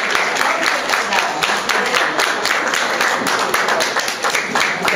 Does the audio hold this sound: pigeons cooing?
no